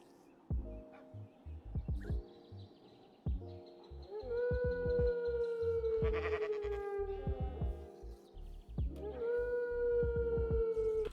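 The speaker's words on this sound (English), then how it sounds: "those dogs are noisy." Minecraft dogs howl in a snowy biome, long rising and falling wails repeating in overlapping bursts, loud and close, broken by short blocky game clicks.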